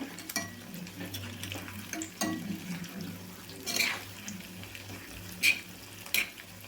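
Chopped onions with bitter gourd frying in a pan and being stirred, with a steady low sizzle and a few scraping stir strokes against the pan.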